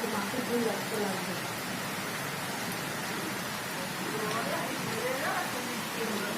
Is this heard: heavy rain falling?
yes